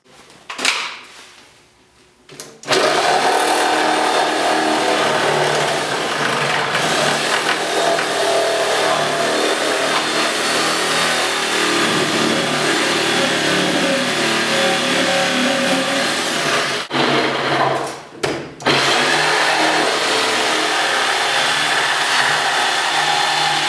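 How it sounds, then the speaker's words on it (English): Sawzall reciprocating saw cutting during prep for a Tormach PCNC 1100 mill stand: loud, continuous buzzing whine close by, starting after a few quiet seconds and pausing briefly midway before resuming. "Next up is going to be to get that sawzall down."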